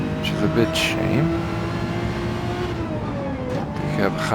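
A high-revving race car engine in Gran Turismo 7 drones steadily at a moderate pitch, rising slightly at moments, while a person talks over it throughout.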